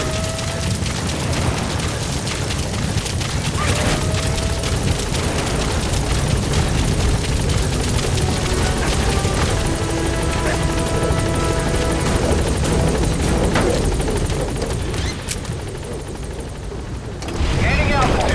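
A support helicopter arrives in the video game Metal Gear Solid V: The Phantom Pain, its loud continuous rotor roar filling the scene while radio voices speak over it and booms sound in the background.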